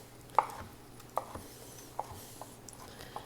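A knife cuts through a cooked chicken breast on a board, producing several distinct sharp taps spaced irregularly over a quiet kitchen background.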